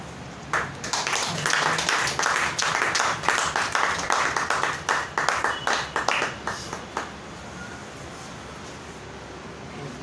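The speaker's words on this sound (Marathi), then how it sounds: "टाळ्या वाजवून त्यांचं स्वागत करूया." A church congregation at a praise and worship service claps together to welcome a speaker, a dense burst of many hands that swells for several seconds, then thins into scattered claps and fades.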